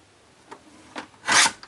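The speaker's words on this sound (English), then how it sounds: "I'm going to turn it around and trim off until I'm at 4 inches" Paper being trimmed to a 4-inch width for a mini accordion fun-fold card: a couple of faint scrapes, then one short, loud rasping slide of the cutter blade, close by.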